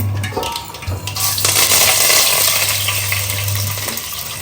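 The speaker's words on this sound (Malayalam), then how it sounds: "കടു പൊട്ടിക്കഴിഞ്ഞിട്ട്" Mustard seeds crackle and spit in hot oil for a Kerala-style tender jackfruit thoran, a dense steady sizzle with scattered pops throughout, fairly loud and close, under a low hum.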